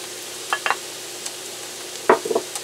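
Fried mushrooms are stirred together in a pan, giving a few scattered scrapes and light clinks of a utensil against the pan over a faint, steady background hiss, with no talking.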